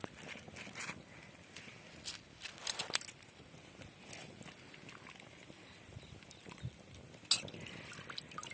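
Washed potato slices drop into a pot of lukewarm water, making a few soft splashes and drips near the mic at a low level, with no talking.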